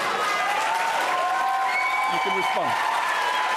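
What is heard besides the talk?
audience applauding and cheering at a debate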